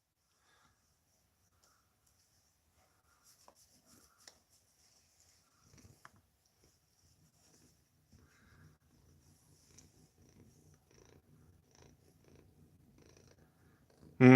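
Faint, close cat purring, a soft low rhythmic rumble that gets steadier toward the end, followed by a sudden loud bump.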